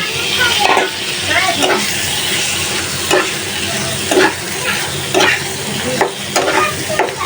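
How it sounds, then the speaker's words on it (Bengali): Hilsa fish stirred and sautéing in spice paste with tomato in a pan, a steady close sizzle broken by repeated scraping stirs every second or so, with no talk. "এখন মাছ দিয়ে ভালোভাবে কষিয়ে তারপর আলু দিব"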